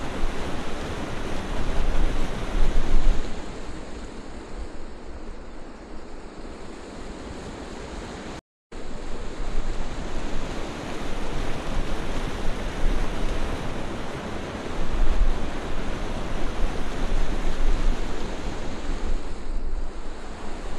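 Water pours continuously over the Mohonpur rubber dam in Dinajpur, a broad, loud rushing roar like surf, buffeted by gusts of wind on the microphone and broken by one brief dropout.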